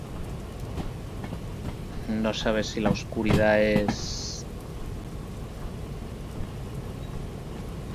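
Steady rain hisses in the Derail Valley train game as night falls, with a soft rumble of thunder underneath, while someone talks over it for a few seconds.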